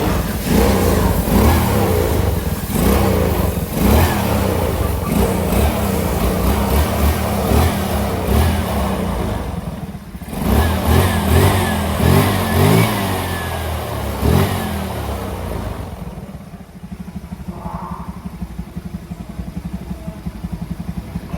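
A Honda Scoopy scooter engine, bored up to 117cc, revs loudly and repeatedly close by, with surging throttle blips between idle dips and no talking over it.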